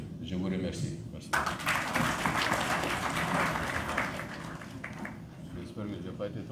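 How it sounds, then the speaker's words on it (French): Audience applause at the first Mali-Russia Economic Forum, a burst of clapping that starts suddenly, swells across the room for several seconds and then fades, with a voice speaking over the start. "Ousseynou Ouattara, que je vous demande d'applaudir une fois de plus, mesdames, messieurs"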